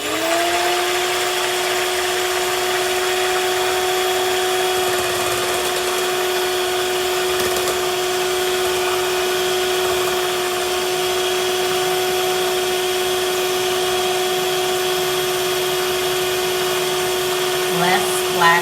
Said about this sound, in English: Then we're going to beat this until it has stiff peaks.